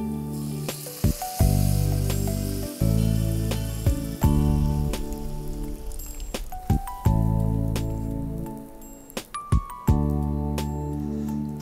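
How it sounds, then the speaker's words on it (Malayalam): Slightly hot water is poured into well-fried masala in a pan, raising a steady hiss and sizzle that stays moderately loud and close, with no talking. "ഇതിലേക്ക് നമുക്ക് കുറച്ച് വെള്ളം ഒഴിച്ചു കൊടുക്കാം."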